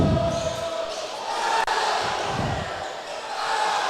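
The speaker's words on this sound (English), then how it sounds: "Even our cheering section is getting louder." A basketball crowd's cheering section at a district semifinal roars steadily in a gym, with loud sustained noise swelling and a sharp bounce or slam, while a commentator talks.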